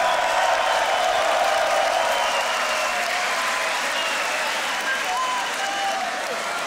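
A crowd at a beatbox battle event applauds loudly and continuously for the whole stretch, dense clapping with faint cheers mixed in.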